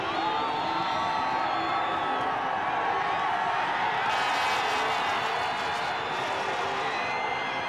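Spectators at a men's moguls freestyle skiing final cheer and whoop for a skier, a continuous, broad roar of crowd noise swelling slightly toward the end.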